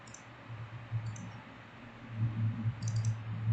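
Computer mouse clicks while selecting in Meshmixer: a few sharp, light clicks in small pairs spaced over a few seconds, close and quiet against a low steady background hum.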